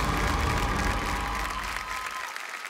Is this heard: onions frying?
no